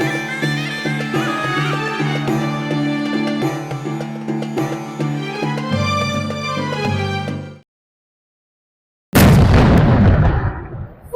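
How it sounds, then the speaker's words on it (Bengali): Iftar cannon fired at Burj Park in Dubai: music plays, then a moment of silence, then a single loud, close boom with a rumbling tail that slowly fades. "কিছুক্ষণ পরেই এখানে ক্যানন ফায়ার হবে"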